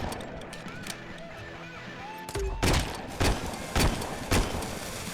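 Gunfire and explosive bursts from the RoboCop Rogue City video game, several heavy booming blasts in irregular succession over a busy background, with game voices talking.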